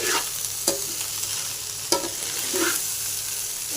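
A spatula stirs gobi fried rice in a frying pan over a steady sizzle, with a few sharp scraping strokes against the pan standing out at irregular intervals, close and loud, no talking.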